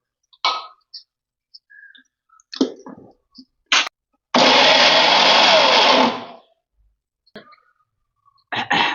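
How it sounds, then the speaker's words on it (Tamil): A mixer grinder runs steadily for about two seconds while grinding chutney for rava dosa, loud and close, with short clicks and clatters before and after and a brief burst of motor noise at the end. "அதனால வேற அரைச்சி எடுத்துட்டு வந்துடுறேன்"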